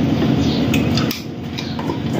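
Ground boondi powder stirred in a pan over a low flame for motichoor ladoo, a steady, close scraping and clinking of a spoon against the pan with no talking.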